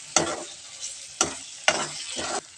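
Mustard seeds frying and being stirred in a pan with ginger, green chilli, garlic, tomato and onion for a corn roast: three bursts of sharp crackling sizzle with scraping stirs, close and fairly loud, no talking.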